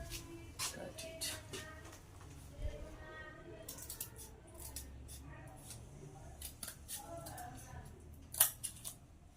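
Scissors cut through a sheet of paper in a few quiet snips with rustling handling, close by and faint, while a person talks over much of it.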